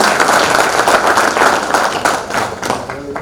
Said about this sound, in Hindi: तो ऐसे शख्सियत के लिए एक जोरदार ताली